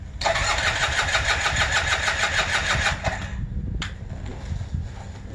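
A Polini 190 trike engine cranks and catches, running loud and steady for about three seconds before cutting out, followed by a sharp click and quieter mechanical rumble.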